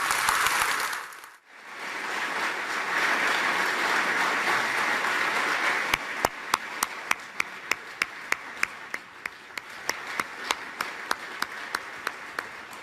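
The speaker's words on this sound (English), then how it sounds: "So applause for Jeremy Corbyn's speech in Coventry" Audience applause in Coventry after a Labour leader's speech: broad sustained clapping rises after a brief lull and carries on steadily, with sharper individual claps and thumps punctuating the second half.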